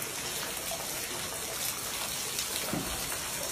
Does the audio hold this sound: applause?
no